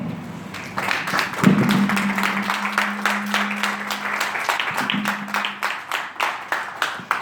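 A stage event audience claps in sparse, fairly spaced strokes over a sustained low hum, moderately near and fading toward the end.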